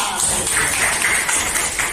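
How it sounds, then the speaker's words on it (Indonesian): A classroom of students claps for a classmate named Tiara, a short burst of busy, uneven hand clapping at close range. "tepuk tangan untuk Tiara"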